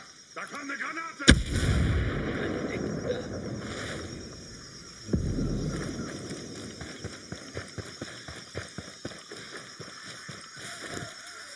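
A grenade explodes in Ghost Recon Breakpoint with a sharp, loud boom and a rumbling tail, followed a few seconds later by a second deep blast that trails into rapid crackling debris and rattling.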